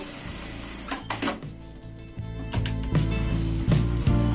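A sewing machine stitches quilting lines on a fabric baby stroller bag, with a steady close hum broken by repeated mechanical clunks and stops, and no talk.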